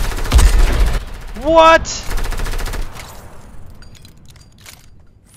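Rapid automatic rifle fire in the Fortnite video game, dense close bursts of shots with a brief pause and a tonal game effect between them, as a player speaks briefly.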